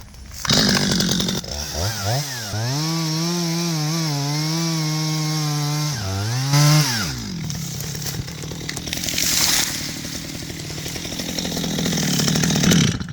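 A chainsaw fells a tree outdoors, its engine revving up into a loud, wavering whine that holds through the cut, dips briefly, then drops back to a rougher idle with some crackling wood noise.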